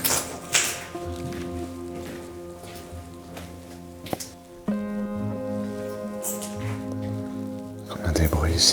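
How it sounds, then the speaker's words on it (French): Rain falls inside a room of an abandoned children's sanatorium, a soft patter and dripping that runs through the whole stretch under sustained tonal music, with a few louder taps and a burst of noise near the end. "c'est parce qu'il pleut dans la pièce"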